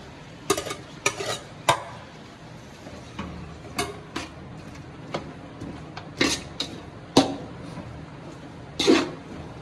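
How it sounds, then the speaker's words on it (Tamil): A spoon stirs tomato and egg semiya in a pan, giving irregular scraping clinks against the metal every second or so over a faint steady sizzle, with no voices. "எல்லாத்தையும் சேர்ந்து கலந்து விட்டுருவோம்"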